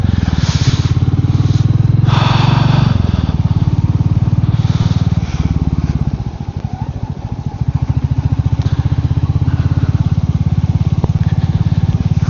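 A motorcycle on country lanes revs and pulls away, a loud continuous engine drone with wind rush that dips briefly and then climbs again, with no speech.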